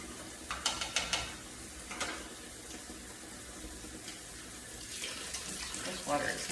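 Tap water runs into a kitchen sink in a soft, continuous stream with a few splashy bursts, fairly quiet, while a person talks over it.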